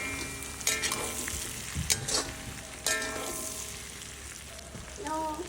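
Onion and chopped garlic sizzle steadily in a pan, broken by a few sharp scrapes and clinks as the mix is stirred, close and fairly quiet.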